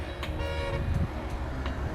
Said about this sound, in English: Why did he even honk?